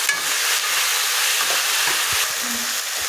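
Chopped greens and boiled potatoes frying in a pan, a loud, steady sizzle broken by a few scraping knocks of a stirring utensil near the end.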